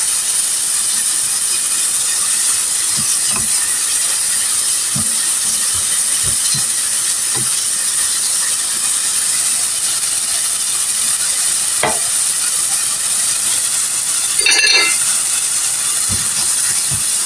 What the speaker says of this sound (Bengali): আমি এখন ভালো করে মশলাটি কষিয়ে নেব।